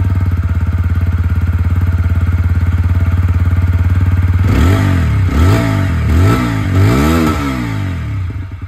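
A TVS Apache motorcycle with a bullpup exhaust idles with a steady low thrum, then is revved hard several times in quick succession, each rise and fall loud and close.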